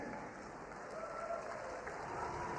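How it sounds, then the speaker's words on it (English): Faint, distant crowd applause at a youth basketball final after a rising star award is presented, a steady soft patter of clapping held at low level throughout with no voices on top. "One more time, a round of applause for your rising star, ladies and gentlemen."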